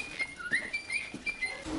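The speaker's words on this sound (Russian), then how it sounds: "а птички, которые поют" Faint, high chirping and whistling bird calls come in short bursts against a soft background hum inside an oceanarium in Kyiv.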